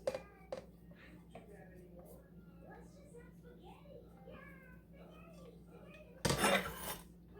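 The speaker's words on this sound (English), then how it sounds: "I'm just going to give that a stir" A spoon stirs corn salad made with drained canned corn in a bowl, giving a few soft clinks at the start and a louder scraping burst near the end, with faint voices murmuring in the background.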